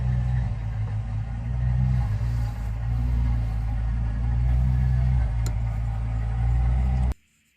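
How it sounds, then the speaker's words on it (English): A neighbour's extremely noisy car rumbles loudly and steadily nearby, its low engine drone holding for about seven seconds before cutting off abruptly. "My brother's neighbour has an extremely noisy car and there's nothing I can do about that"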